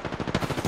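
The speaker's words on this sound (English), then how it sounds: "Getting shot at." Rapid automatic gunfire from an R-99 submachine gun in Apex Legends, a tight burst of about a dozen evenly spaced shots rattling close and loud with no voices over it.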